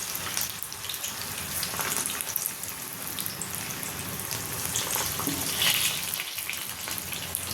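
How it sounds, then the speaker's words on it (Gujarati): Soya chunks frying in hot oil over a medium-high flame give a steady, faint bubbling sizzle with scattered small pops, heard close and without speech. "તેલ ગરમ થઈ ગયું છે, આપણે સોયામાં ઉમેરી દઈશું"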